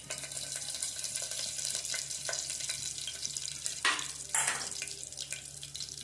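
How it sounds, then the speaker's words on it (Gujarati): Curry leaves crackle in hot oil with cumin while moraiya khichdi is cooked. A soft, steady sizzle and spatter runs throughout, with a couple of louder hissing bursts near the end. "કડી પત્તા તતડી જાય એટલે આપણે એમાં મરચાંની કટકી નાખીશું"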